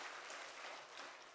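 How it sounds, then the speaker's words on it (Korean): A church congregation applauds its choir in a brief burst of dense clapping, faint and distant-sounding. "찬양대원들에게 우리 박수 한번 하겠습니다."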